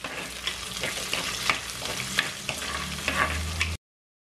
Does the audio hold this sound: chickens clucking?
no